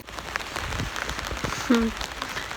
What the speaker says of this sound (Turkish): Burası yağıyor.